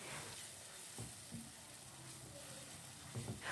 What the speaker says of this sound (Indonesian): Ini masukkan saja bumbu halusnya. Kita aduk-aduk, kita tumis sampai nanti agak wangi.